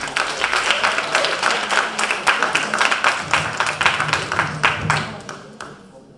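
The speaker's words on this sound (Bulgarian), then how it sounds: "Аплодисменти!" Loud, dense applause from a concert audience at an autumn folk concert with accordion and singers, many hands clapping steadily close by for about six seconds before tapering off at the end.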